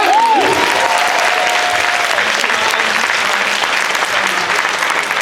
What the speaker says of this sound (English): everyone give a round of applause for Morley